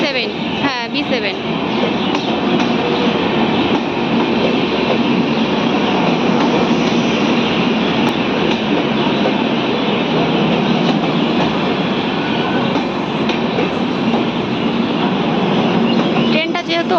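A very long New NJP train rolls into a busy station platform, its wheels rumbling and clattering loudly and without a break. Faint crowd voices sit beneath the noise, and brief rattling bursts come at the start and near the end.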